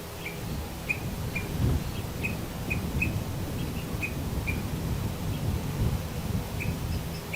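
Flycatchers calling outdoors: short, high chirps repeated at irregular intervals, moderately distant, over a steady bed of wind and rustling leaves.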